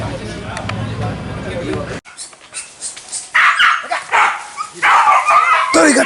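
A dog barks in short, loud bursts at Sungai Rambai, Kampung Dalam. People talk nearby in the first two seconds, and the barks follow in irregular clusters.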